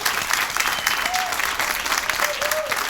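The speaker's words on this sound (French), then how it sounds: "Et puis avant, on peut l'applaudir," Dense, steady audience applause fills the whole stretch for a singer, a continuous wash of many hands at even loudness with faint crowd murmur beneath.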